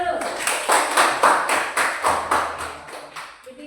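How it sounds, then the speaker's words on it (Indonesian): Children in a classroom clap their hands together in a steady, rhythmic burst of roughly a dozen even claps, moderately loud and close, with some voices mixed in. "Tepuk tangan dulu."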